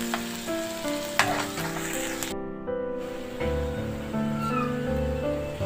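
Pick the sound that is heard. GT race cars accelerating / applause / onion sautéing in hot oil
onion sautéing in hot oil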